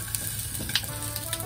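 Pumpkin pieces stir-frying in oil for a simmered pumpkin dish, giving a steady low sizzle with a few light stirring clicks, fairly close and quiet, with no voices.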